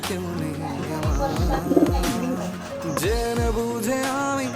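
Racer and teddy pigeons coo in a loft, repeated low rolling coos close by at a steady level, with a few soft flutters between calls.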